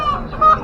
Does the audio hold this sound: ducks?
yes